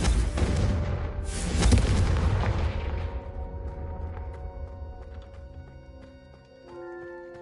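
A Confringo spell explodes in Hogwarts Legacy with a loud, broad booming blast that peaks early and then rolls into a long fading rumble, while faint game tones carry on behind it.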